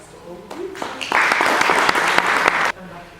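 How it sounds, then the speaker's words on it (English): Audience applause at an event, a broad burst of clapping that swells quickly, holds strong for about a second and a half, then cuts off, with quieter murmur before and after. "So I just want to applaud all of you"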